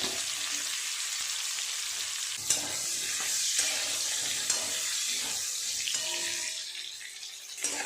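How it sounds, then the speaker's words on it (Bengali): Ridge gourd and pointed gourd frying in hot oil in a home kitchen, a steady close hiss and sizzle with scattered stirring clatters, running alone and easing slightly near the end. "তেল তো গরম আছে, সবজিগুলো আগে ভেজে নেব ভালো করে। ঝিঙে আর পটল"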